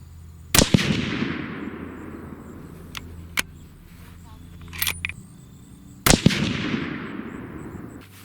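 A Savage 111 rifle in 270 Winchester fires two loud, sharp shots several seconds apart, each followed by a long rolling echo decay outdoors, with a faint click and a softer metallic rattle between them.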